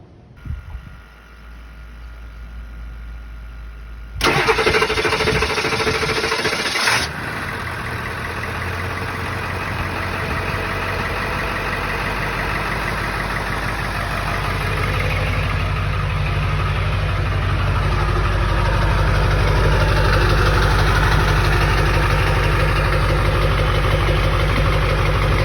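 A 1999 Ford F250 with the 7.3 Powerstroke diesel and about 425,000 miles cranks after a few quiet seconds, catches with a loud roar, then settles into a steady, rattly diesel idle that grows slightly heavier toward the end.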